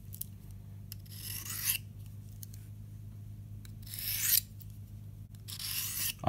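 A knife is sharpened freehand on a Victorinox dual sharpener, giving three separate bright scraping strokes, each about a second long, spaced by quiet pauses under a low steady hum.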